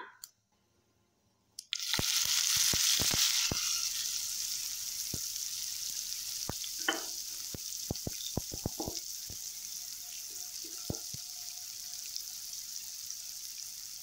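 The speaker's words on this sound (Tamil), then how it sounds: "வெங்காயத்தை நல்லா வதக்கி விடுங்க" Onions sizzle steadily in a hot pan for paneer masala gravy, with occasional scrapes and clinks of a utensil stirring.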